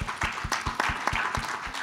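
Rhythmic, evenly spaced claps from an audience at an equestrian federation congress in Avignon. About four beats per second form a brisk, steady clapping pattern.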